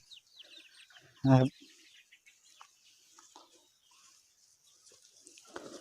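A chicken gives one loud, close squawk over a soft outdoor background of rice fields with faint chirps and light rustling, with a brief noise near the end.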